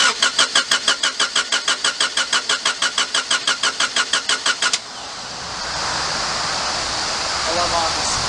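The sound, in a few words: project car engine cranking over and starting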